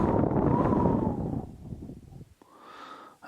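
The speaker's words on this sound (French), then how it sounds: "Dehors, le vent et la tempête continuent de plus belle" Wind and storm rage outside, a loud, broad rushing roar that gusts strongly, then eases into a thinner, quieter whistling, with a faint tonal moan near the end.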